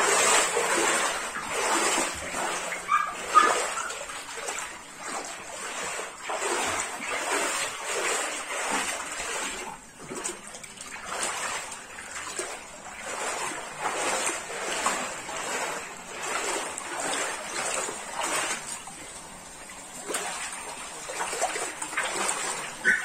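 Floodwater splashes and churns steadily through a flooded neighborhood in Jardim Brasil, Belford Roxo, with continuous close, moderately loud sloshing and wading splashes throughout.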